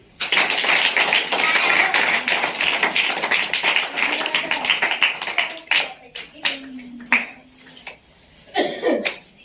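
Crowd clapping for Hanuman during a Ramayana performance, dense rhythmic applause that thins into scattered claps with a few voices toward the end.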